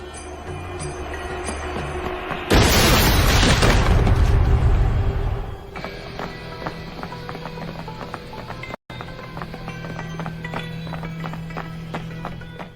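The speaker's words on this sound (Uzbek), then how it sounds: "Bomba." A bomb explodes in a sudden, loud, roaring blast that lasts about three seconds before dying away, set against a steady background of tonal music.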